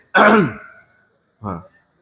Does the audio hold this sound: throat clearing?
yes